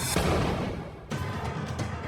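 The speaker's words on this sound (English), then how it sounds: "Wakes up to the gunshot" A gunshot sound effect in a documentary crime reenactment: a loud broadband burst opens the clip, followed by a second, sharper crack about a second later. Both ring out over a dense, noisy background with no speech.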